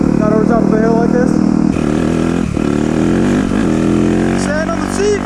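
Motorcycle engine held at a steady high drone while the rider pulls a wheelie on a hillside dirt road, loud and close, with someone talking over it throughout.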